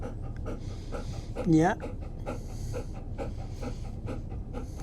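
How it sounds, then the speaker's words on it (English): A dog pants steadily in quick, rhythmic breaths close by, under a person talking softly and briefly whimpering or vocalizing midway. "There's nothing like a dog to give you unconditional love."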